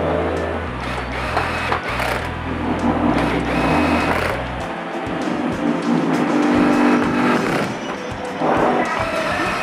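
Electric screwdriver whirring in short bursts as screws are driven back into a Korg Pa600/Pa900 keyboard during a touchscreen replacement, a close, fairly loud motor drone that starts and stops, with some handling clatter afterward.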